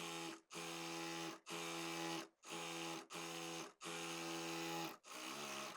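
A sewing machine stitches fabric for a palazzo, its motor whirring in six evenly spaced bursts separated by brief pauses, close and steady, with no voices.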